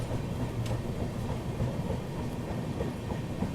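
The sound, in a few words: Gomti Express train approaching slowly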